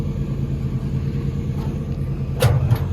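A Toyota crawler rolls onto car trailer ramps, a steady low engine rumble close by, with a brief heavier surge near the end.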